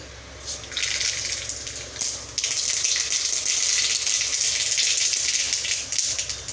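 Mustard seeds tempering in hot mustard oil, a steady close hiss and crackle that swells and holds loud throughout without pause.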